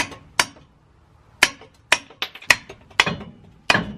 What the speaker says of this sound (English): I'm trying to just hit it with a hammer or a mallet and a screwdriver